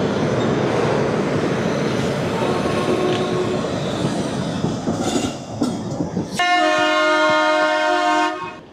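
Shalimar–Chennai train departing Visakhapatnam Junction: a loud rumble of rolling carriages and clatter, then a long, steady horn blast close by near the end.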